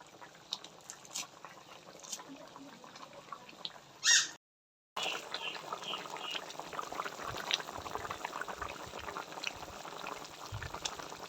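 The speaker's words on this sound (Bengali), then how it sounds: "তরকারিতে বলক এসে পড়ছে" A thin fish curry comes to a boil in a pot, a soft, low bubbling and simmering heard close by, with a brief clink and a momentary dropout partway through.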